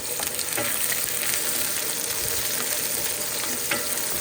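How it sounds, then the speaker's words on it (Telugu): Onions caramelizing in a pan for chicken ghee roast make a dense, loud, continuous sizzle, with occasional sharp ticks and scrapes of stirring and no talking. "ఇలాగా ఆనియన్స్ బాగా ఫ్రై అయిపోవాలి"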